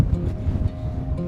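Strong wind buffets the microphone at a tall dam in Cody, Wyoming, a constant low rumbling roar with gusty swells, loud and close, with no one speaking.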